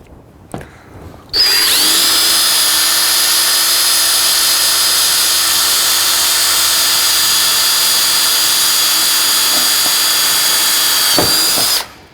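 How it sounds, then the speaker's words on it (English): A power drill pre-drills a hole in the beam of a long-span steel workbench during assembly. After a brief clatter, a loud, steady, high-pitched whine runs unbroken for about ten seconds, then cuts off. "Next procedure is just to pre-drill your hole."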